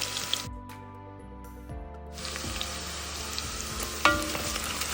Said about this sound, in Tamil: சின்ன வெங்காயம் பெரிய வெங்காயம் போட்டு நம்ம வதக்குறோம்